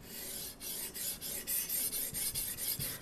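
Steel knife edge ground against a stone on a TSPROF Blitz Pro sharpener, with rhythmic rasping strokes in a steady back-and-forth cadence, close and fairly quiet.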